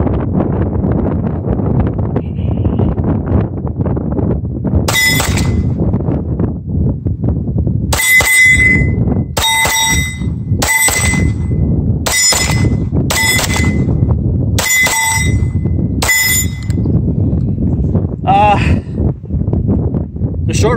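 A Sig Legion pistol fires a quick string of shots outdoors, each followed by a bright metallic ring from steel targets, sharp and close against steady wind noise, and someone speaks between the shots.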